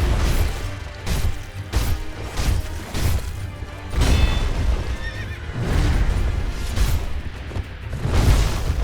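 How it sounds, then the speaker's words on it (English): A horse in the video game Sekiro: Shadows Die Twice neighs in repeated loud bursts, mixed with heavy kicking thuds and crashing combat impacts. "Oh, I got kicked by the horse."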